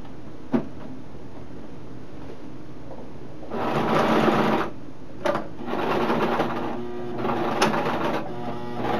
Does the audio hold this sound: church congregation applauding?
no